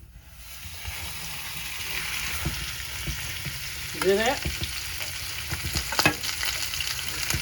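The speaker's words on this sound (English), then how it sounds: "let's slide it in. And you'll hear the sizzle." A pot roast sizzles and sears in a hot skillet on a stovetop, with a steady frying hiss that swells as the meat slides in. A scrape follows, and a voice briefly speaks over it.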